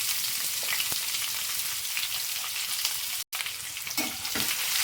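Chopped onions frying in a pan for a bitter gourd gravy, a steady dense sizzle with occasional spoon stirs and a brief cut-out midway.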